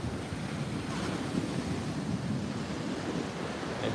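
Morning surf rolls in at Muaro Bayang beach near Painan in West Sumatra, a broad continuous wash of waves mixed with wind noise on the microphone, heard steadily throughout.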